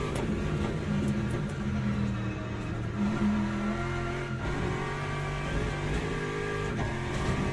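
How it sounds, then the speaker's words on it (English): A race car engine in the racing game Le Mans Ultimate drones steadily, revving and shifting under load, with a continuous close whir throughout. "No doubt in my mind that this car sounds better"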